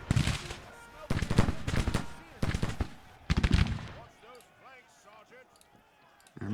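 Artillery and musket gunfire in the American Civil War strategy game Grand Tactician, rolling in several loud bursts of booms and crackle over the first few seconds, then fading to quieter distant shots.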